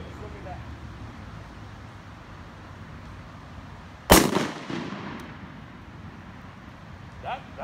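A single loud blast from a Mossberg Shockwave 20 gauge pump shotgun fired one-handed outdoors, a sharp close crack followed by a short rolling echo, with quiet background before and faint sound after.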